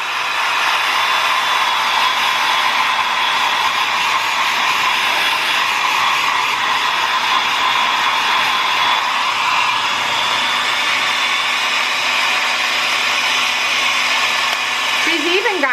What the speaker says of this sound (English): she lets me comb it out while I am blow drying, which speeds up the drying process